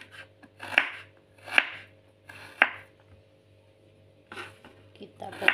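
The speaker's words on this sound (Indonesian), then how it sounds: "Selanjutnya mau saya potong dulu jahenya." Fresh ginger cut with a knife on a board, several distinct chops spaced about a second apart, close and crisp, with low talk in the background.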